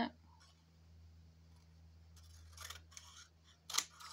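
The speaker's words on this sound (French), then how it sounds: "Je coupe une petite patte." Scissors snipping a small paper tab for an envelope mini album, with a few quick close cuts near the end over a faint low hum in a quiet room.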